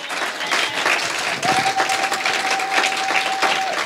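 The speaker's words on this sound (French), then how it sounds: "I say clap for the Lord." A church congregation claps their hands together in dense, sustained applause, loud and close, with a faint voice and a held musical tone underneath.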